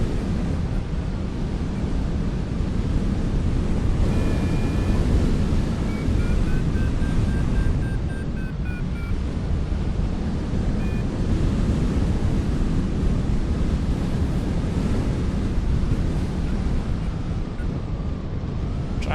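Steady, loud wind roars past the microphone while hang gliding along the edge of a slope in a British race, a continuous rush with no talk.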